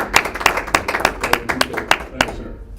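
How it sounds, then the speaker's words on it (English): A small audience gives a short round of applause at an indoor food event, with quick, evenly spaced claps that fade out after a couple of seconds. "let's give a round of applause for yourself"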